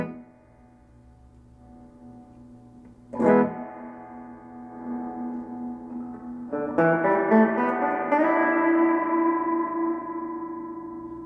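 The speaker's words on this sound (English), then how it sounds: "The reverb control allows you to add an echo effect to the guitar." A Studio 15R amp with reverb turned up plays electric guitar: a sustained chord, then a sharp strum at about three seconds and another at about seven, each ringing out with a long echoing tail.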